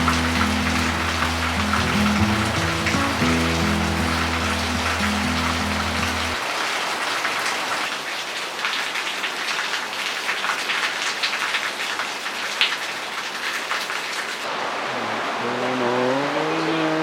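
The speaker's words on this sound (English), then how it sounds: "After the raining full moon night, it was also a rainy morning" Steady rain on a rainy morning after a whole night of heavy rainfall, a dense, even hiss of falling drops, with a low droning tone in the opening seconds and faint music toward the end.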